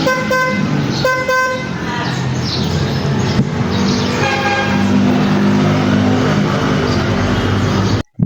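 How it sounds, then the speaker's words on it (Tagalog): A motorcycle horn, adjusted after its seal was removed, sounds in short bursts and then longer sustained honks, loud and close, with street traffic noise beneath and a sudden cutoff at the end. "Tignan natin kung magkakabusina na."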